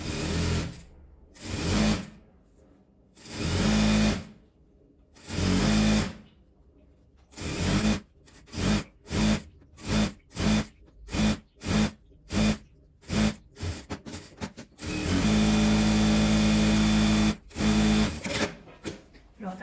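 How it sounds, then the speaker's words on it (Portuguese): A sewing machine stitching a denim apron strap made from old jeans runs in loud bursts, first a few longer runs, then many short rhythmic spurts, and ends in one long sustained stitching run, close up. "Eu vou costurar, passando costura aqui dos dois lados."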